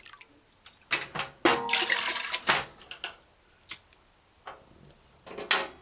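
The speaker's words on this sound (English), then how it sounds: "Next, measure and add 3 cups water." Three cups of water poured into a pressure cooker for cooking octopus, heard as a few short splashing bursts with a longer, louder pour in the middle, close by and with no talk.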